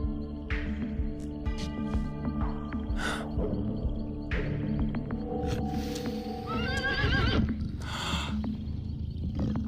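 A horse neighs and snorts repeatedly, close and loud, with shuffling hooves and stirring around it.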